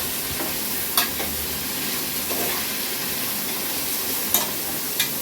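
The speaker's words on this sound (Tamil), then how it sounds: "ஓகே, இதை நல்லா கிண்டிக்கலாம்." Thinly sliced onions for biryani being stirred in hot oil, a loud, dense, continuous sizzle close by with a few sharp knocks of the spoon against the pan.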